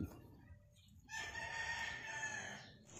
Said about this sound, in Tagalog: Ito guys yung bullstag na Boston Roundhead.